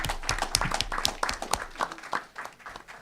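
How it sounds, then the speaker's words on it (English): Hands clap at a school board meeting, a ragged cluster of distinct, fairly close claps in an uneven rhythm, loud individual smacks that thin out and fade toward the end. "One more hand clap."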